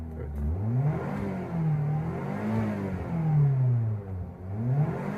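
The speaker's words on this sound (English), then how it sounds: "You want to start the car, and you may want to rev it a couple times." A 2007 Mazda 5 Grande Touring idles in neutral and revs up and down several times in smooth, rising and falling swells, a steady close engine hum with no voices.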